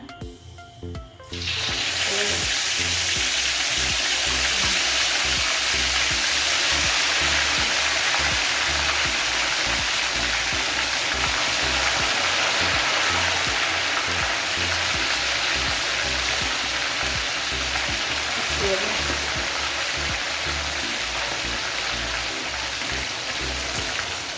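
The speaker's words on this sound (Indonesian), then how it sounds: "Kita goreng langsung ayamnya ya." Spiced chicken pieces hit hot oil and sizzle loudly and steadily, a dense, crackling fry that starts abruptly after a quiet second and continues unbroken, close by, with no talking.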